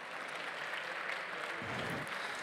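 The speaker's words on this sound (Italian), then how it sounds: "Ecco, un applauso per favore." Brief, dense applause from an audience at an awards ceremony on a conference main stage, a steady roar of many hands with no voices.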